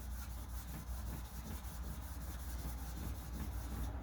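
Hand sanding of a coin ring with sandpaper, a steady close rasping rub running continuously with slight rhythmic strokes throughout.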